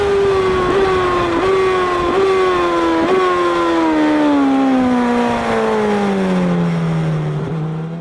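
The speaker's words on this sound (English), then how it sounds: "Now let's look at this clip in Adelaide corner of me riding my GSXR" A Suzuki GSXR motorcycle on a race track in a corner, its engine a loud steady whine that drops gradually in pitch while braking, with brief blips along the way, close and continuous.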